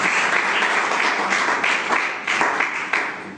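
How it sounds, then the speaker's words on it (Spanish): Steady congregational applause fills a Pentecostal church service in Vallecas, Madrid, a dense, continuous wash of clapping with slight swells, no voices standing out. "Démosle un aplauso al Señor en esta mañana."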